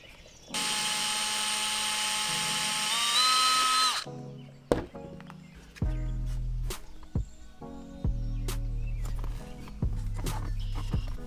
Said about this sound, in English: I put a bolt in to hold the adapter in place while I drilled the second hole.